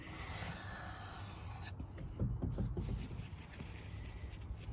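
A Kershaw Trace pocket knife is drawn across a sharpening stone, with a steady rasping rub at first followed by a string of shorter, irregular scraping strokes, close and fairly quiet.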